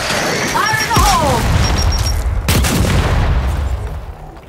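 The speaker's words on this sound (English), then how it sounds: "Flash grenade! Fire in the hole!" A flash grenade goes off during a Gears 5 firefight. A sharp boom cuts through the game noise and is followed by a rumbling tail. Radio-style voice callouts and synthetic chirps come just before it.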